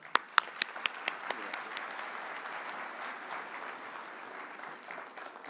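A few sharp individual claps open, then merge into sustained audience applause that holds at moderate volume.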